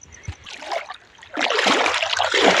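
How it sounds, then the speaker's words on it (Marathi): Water of a flooded stream being waded through on foot, with soft splashing and swishing at first, then a louder, continuous rush of sloshing water close by. "तर बघा पाणी"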